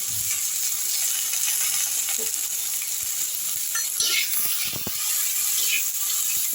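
Potatoes and drumstick pieces fry in a pan over a low gas flame, making a steady broadband sizzle with a few stirring scrapes and clicks, close and continuous with no talking.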